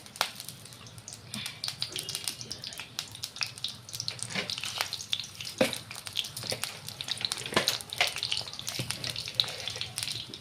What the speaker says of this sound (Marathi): हा लसूण आहे सगळ्या कळ्या मी ठेचूनच घेतलेला आहे हा यामध्ये टाकायचा आहे